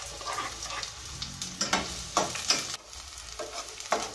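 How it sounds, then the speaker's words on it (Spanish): Onion frying in a little oil until translucent, a steady crackling sizzle punctuated by repeated scraping strokes of a spoon stirring the pan, close up with no one speaking. "Ahí vamos a poner a que se acitrone la cebolla."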